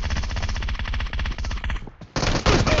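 Sustained fast automatic gunfire in PUBG Mobile, a steady rapid rhythm of close, loud shots that breaks off briefly before another burst resumes.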